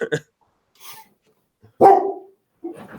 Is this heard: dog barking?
yes